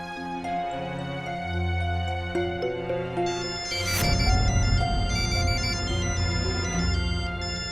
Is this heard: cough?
no